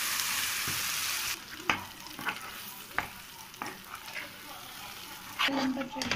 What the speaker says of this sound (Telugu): ఇప్పుడు మిక్సీ పట్టిన పచ్చడిని వేసుకొని కలుపుకుందాం.